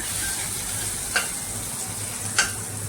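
Garlic frying in oil in a pan gives a continuous, even sizzle and hiss, broken by two faint, brief clicks.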